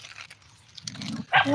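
Small dogs bark and yip in short bursts, close by, with a louder yelping burst near the end.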